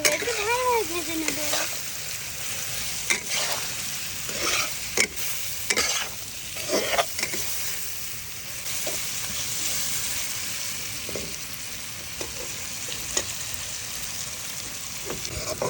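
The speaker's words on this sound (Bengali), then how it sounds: "এই যে দেখুন করলাটা ভালোভাবে ভেজে নিয়েছি" Bitter gourd fries in a pan with a continuous crackling sizzle, marked by repeated scraping and clanking as it is stirred and spread around.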